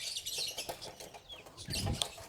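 Native country chickens clucking and calling in short scattered bursts, with a few wing flaps and rustles, fairly close by and with no talking.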